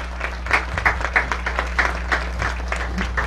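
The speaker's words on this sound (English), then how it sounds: "If you could give this outstanding group of seniors another round of applause." Audience applause for a group of high school seniors at an Eisenhower football game, a steady crowd clapping with scattered louder claps over a continuous low hum.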